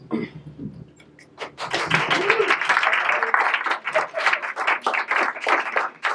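After a brief quiet moment, an audience at a lecture panel breaks into steady applause for the incoming facilitator, a room full of claps holding at a fairly even level until the end.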